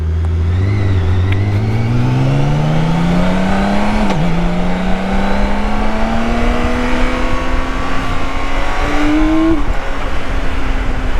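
A BMW K1600B motorcycle accelerates hard on the road, its engine note rising steadily through a gear change amid heavy wind rush, loud and close throughout.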